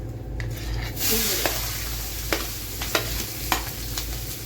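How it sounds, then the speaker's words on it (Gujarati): Green chilies and garlic are stirred into a sizzling tempering of oil with bay leaf, dried red chilies, curry leaves and turmeric, giving a constant frying hiss punctuated by several sharp spatula scrapes and taps at irregular intervals. "લીલા મરચા ને લસણ બધું મિક્સ કરી દેવાનું"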